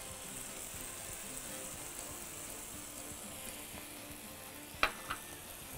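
Butter heats in a pan for hash browns with hot dogs and eggs, giving a steady, quiet sizzling hiss throughout, with two brief sharp clicks near the end and no talking.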